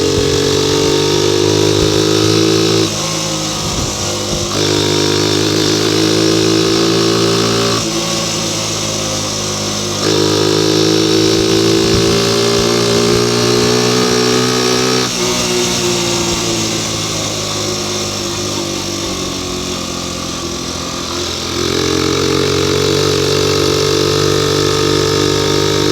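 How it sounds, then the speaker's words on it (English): A motorcycle engine sounds raspy while the bike is ridden through town streets, loud and close, droning steadily with gear changes and shifts in pitch as it accelerates and eases off. "Bike's sounding extremely raspy today."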